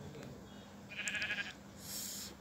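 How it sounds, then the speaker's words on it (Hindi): A short, faint sheep bleat sounds once in a video game, over a quiet background hum. "आपने शीप बकरी की आवाज़ तो सुनी ली होगी"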